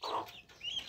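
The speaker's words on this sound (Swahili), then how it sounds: "kawaida vifaranga wa bata mzinga huwa wanatoa hizi sauti unazozisikia" Hungry, thirsty turkey poults let out a couple of brief, high-pitched whistling peeps, close and alone, separated by a short pause.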